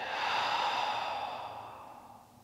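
A single long, breathy exhale during slow yoga practice, close and soft, swelling briefly then fading gradually to quiet.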